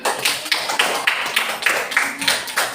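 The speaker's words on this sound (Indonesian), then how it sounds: "Bagus, tepuk tangan." Children in a classroom clap together in a quick, regular rhythm of about a dozen sharp claps, close and fairly loud, with no one talking.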